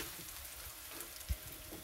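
Steak sizzling on a grill just after flipping, a faint, steady hiss and crackle like light rain, with one soft low thump partway through.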